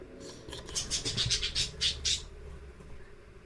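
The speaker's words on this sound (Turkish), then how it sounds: "Kuş niye susmuyor?" A bird squawks repeatedly in a quick series of harsh, shrill calls, fairly close, over a low background hum.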